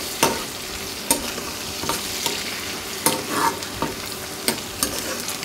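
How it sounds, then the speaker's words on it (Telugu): Onions frying with a little salt are stirred with a ladle, sharp metallic scrapes and taps recurring every second or so over a soft steady sizzle, close and without talk. "ఇప్పుడు ఈ మొత్తం కూడా గరిటెతో కలిసే విధంగా కలపాలండి."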